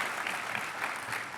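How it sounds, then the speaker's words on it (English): Audience applauding a space-summit plenary panel at the close of a question session, a steady, dense wash of clapping filling the whole moment at moderate level with no voices on top. "Big round of applause."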